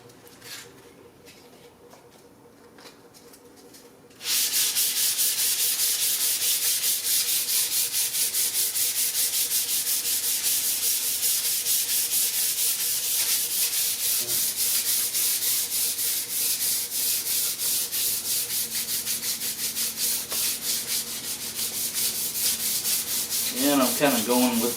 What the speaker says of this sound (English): lots of sanding fun.